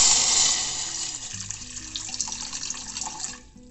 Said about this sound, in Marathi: सर्वप्रथम पातेल्यामध्ये 2 कप पाणी घ्यायचं